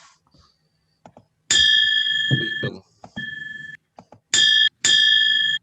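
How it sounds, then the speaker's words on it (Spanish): A bright bell rings out several times in short bursts at the opening of a Rotary club meeting, clear sustained tones with gaps between, mixed with brief clatters and a quick spoken remark. "Este toque de campana es característico de toda reunión rotaria en todo el mundo."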